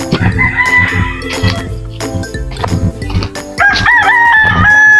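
Native roosters crow loudly and close, several overlapping cock-a-doodle-doo calls in quick succession with clucking between them.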